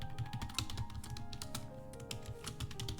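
C++ code is typed on a computer keyboard in a fast, steady run of close, crisp key clicks, with no voices.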